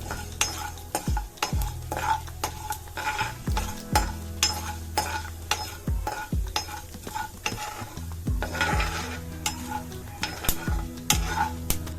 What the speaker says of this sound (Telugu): ఇలా మెంతులు వేగుతున్నాయి కదండి